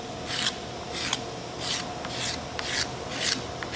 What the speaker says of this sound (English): We'll just do a little scraping.